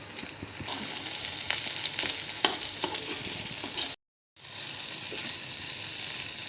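Okra sizzles and crackles in a hot pan with garlic, cumin and a pinch of salt, with a few sharp scrapes and taps as the pieces are turned over and a brief gap of silence partway through.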